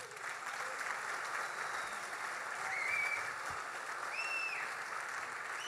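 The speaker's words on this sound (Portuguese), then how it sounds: "É para Jesus dar um lindo aplauso a ele." Continuous applause from a church congregation, steady and moderately distant, sustained throughout without pause.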